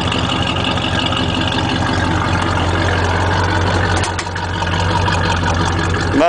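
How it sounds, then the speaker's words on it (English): An Oldsmobile 442 muscle car engine idles with a deep, steady rumble through its factory exhaust, loud and close, with a brief dip in level midway. "Love that factory exhaust."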